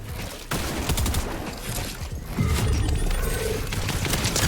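Rapid gunfire bursts from a video game shootout crackle in quick clusters, loud and dense, with heavier booming shots joining partway through.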